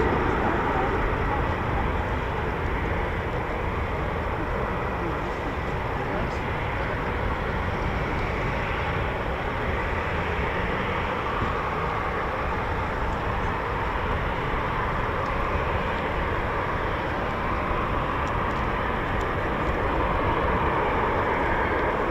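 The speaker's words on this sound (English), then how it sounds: "is an aircraft that the Royal Air Force use for QRA training" An RAF Eurofighter Typhoon FGR4 flies over RAF Coningsby, producing a continuous broad, rumbling jet roar that holds fairly even throughout.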